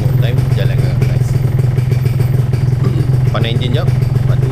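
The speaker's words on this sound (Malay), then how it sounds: "Panas enjin jap." Yamaha 125ZR two-stroke motorcycle engine warming up, a steady close idle with rattling, buzzing pulses running continuously.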